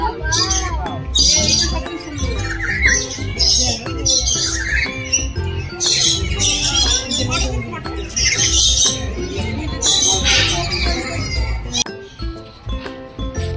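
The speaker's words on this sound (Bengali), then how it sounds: "ম্যাকাও ওই যে লেখা রয়েছে রেড এন্ড গ্রিন ম্যাকাও" A red-and-green macaw at an aviary in a Kolkata eco park gives harsh squawking calls amid busy crowd chatter and children's voices, with clinking sounds scattered throughout.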